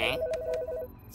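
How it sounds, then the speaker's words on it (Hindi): Cartoon telephone ringing, a short burst of rapid electronic trilling rings, loud and close, cut off after under a second. "फोन करना बंद करो"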